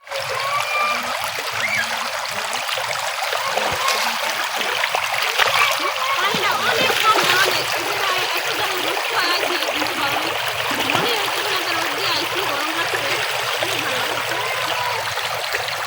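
A mountain stream splashes and trickles steadily while someone bathes in it, close water sounds continuing throughout under people talking.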